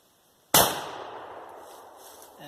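A single loud shot from an 1899 Krag carbine bolt-action rifle in Red Dead Redemption, a sharp close crack followed by a long decaying rumble with no talk.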